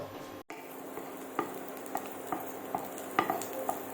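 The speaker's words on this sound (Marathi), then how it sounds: "इथं पॅनमध्ये आपण तेल घेतलेलं आहे तेलामध्ये आपण ठेचलेला लसूण घालून घेणार आहोत" Crushed garlic sizzles quietly in oil in a pan, a soft continuous hiss broken by a series of light clinks and taps as a spoon stirs it.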